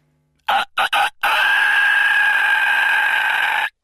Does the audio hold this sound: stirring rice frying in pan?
no